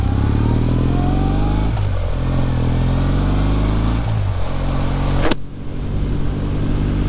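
A Kawasaki motorcycle engine idles steadily and loudly up close with a fast, even, low throb, then cuts off abruptly near the end, leaving quieter background noise.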